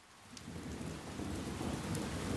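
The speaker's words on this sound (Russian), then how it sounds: "внезапно пошел дождь" A sudden downpour of rain with rolling thunder builds steadily from quiet to a dense, continuous wash of falling water and low rumble, with no voices.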